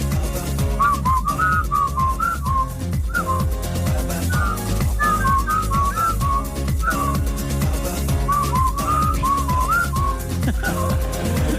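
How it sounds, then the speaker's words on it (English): Melodic whistling carries a tune in short repeated phrases over a full music backing, loud and steady throughout. "there's a genuine whistle section."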